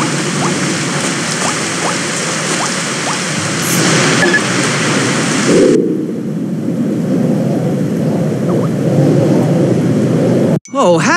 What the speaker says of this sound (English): Maybe our friends came in here to take shelter from the rain.